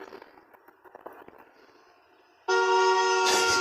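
A car horn blares loud and sustained as a car nearly hits a sleepwalking man crossing the street in the film Fatal Attraction, cutting in sharply after quieter rustling scene sounds.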